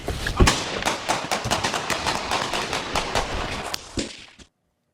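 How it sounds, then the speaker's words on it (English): Gunfire in a Cleveland neighborhood: a rapid, irregular burst of many sharp shots, loud and somewhat echoing, that stops abruptly into silence. "Hear those gunshots there."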